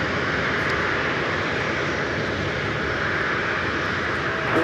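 Boeing 757 airliner at Los Angeles International Airport, its engines giving a steady, loud, broadband roar that holds without a break through the whole stretch, with no voices over it.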